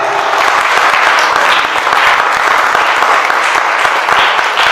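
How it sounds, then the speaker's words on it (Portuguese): A church congregation claps continuously, dense and steady applause praising the Lord, filling the room without letup. "Vamos aplaudir ao Senhor aí"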